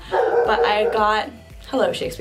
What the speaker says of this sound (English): that's my dog. Please ignore him.